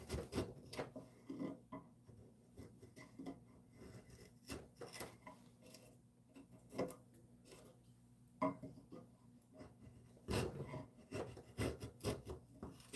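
Quiet scraping and rasping on mahogany wood from hand chiseling and knife work comes in irregular strokes, with occasional sharper taps, close up and unaccompanied by speech.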